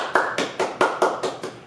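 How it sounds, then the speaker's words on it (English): An audience claps in a steady rhythm, about eight crisp, loud claps spaced evenly with no talking. "Clap your hands."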